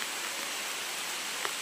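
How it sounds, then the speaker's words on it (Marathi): Rain falling steadily in a village forest during the rainy season, a soft even wash of hiss that stays quiet and continuous, with no voices. "पाऊस बघा चालू झालाय."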